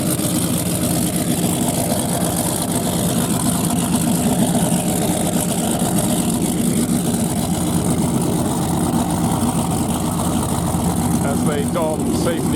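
Dry Martini racing powerboat engine during the Cowes Torquay Cowes 2018 race, a loud continuous deep roar that holds steady throughout, with a voice talking over it.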